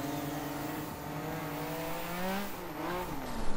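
A car drifting in the Assetto Corsa racing game on a Need for Speed Rockport map, its engine note rising and falling while tires squeal sideways, fairly quiet and continuous with no speech.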